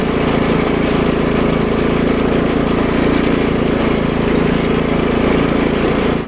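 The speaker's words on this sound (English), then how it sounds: "I got this DR Power Mower a couple months ago" A DR Power Mower Premier 26 runs steadily up close, giving a loud, continuous engine drone with no change in pitch until it cuts off abruptly at the end.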